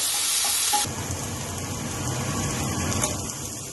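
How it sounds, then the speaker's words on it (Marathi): Finely chopped onion frying in oil in a hot pan for chicken tikka masala, a loud sizzle that bursts at the start and then settles into a steady crackling hiss. "आतां बारीक चॉप करून पियाव घाल. बरो मिक्स कर बरो भाज दिया"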